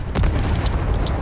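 A grenade goes off in a shooter video game during a shotgun-only challenge: one heavy, close boom, then a rumbling tail with a few sharp pops.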